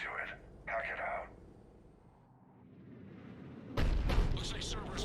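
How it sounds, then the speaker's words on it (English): Cannon fire in the Mass Effect 3 video game, a heavy boom landing late amid loud combat noise, with brief radio-like bursts and game dialogue earlier. "Looks like Cerberus got that cannon operational, Commander."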